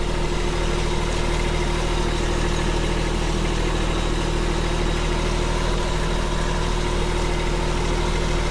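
Small tractor loader engine running at about 1,300 RPM, a steady, loud, close droning hum with constant vibration throughout and no variation.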